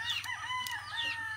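Chickens and young chicks on a rainy-season Philippine farm, with a rooster crowing loudly and close, overlapping clucks and chirps, against a steady low hum.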